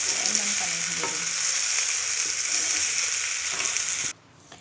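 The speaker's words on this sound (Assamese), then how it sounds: "এয়া আদা নহৰু দি ভাজি আছোঁ" Small fish frying in a pan with ginger and garlic, a loud continuous close sizzle with occasional stirring, cutting off abruptly near the end.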